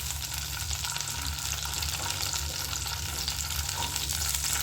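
Green chillies frying in a little oil in a pan for North Karnataka-style hasi khara, a steady, moderately quiet crackling sizzle with a low continuous hum underneath, heard alone.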